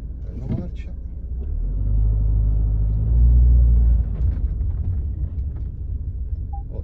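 A 2.0 Blue-HDi automatic Citroen C4 Grand Picasso pulls away in gear, its low engine rumble swelling to a peak around the middle and then easing back to a steady hum, with a voice speaking over it.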